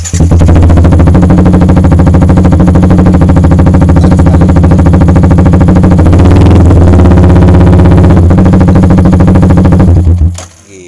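A Yamaha R15 V3 motorcycle engine runs loud and close with a dense, buzzing exhaust note held steady for about ten seconds before cutting off abruptly.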